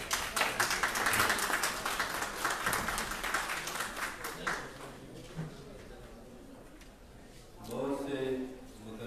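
Applause from the audience at a poetry gathering rises loudly at the start and fades over the first few seconds, then a voice speaks near the end.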